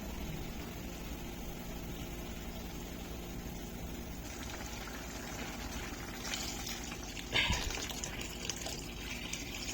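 Biulir dal lentils boiling in water in a pot, a soft continuous bubbling and gurgling simmer with a brief louder slosh near the end.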